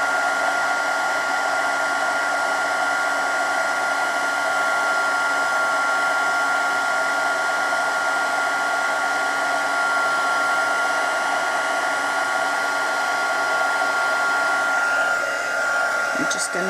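Heat embossing tool blowing steadily and evenly at close range, a continuous hair-dryer-like whoosh with a constant whine throughout, used on a stamped card box, with no talking over it.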